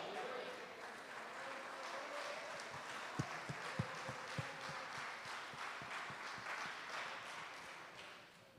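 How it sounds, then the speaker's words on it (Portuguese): A church congregation claps in praise during a sermon, the quiet, scattered applause rising into a few sharper distinct claps midway before fading, with faint room murmur underneath and no speech. "aplauda o Senhor, aleluia"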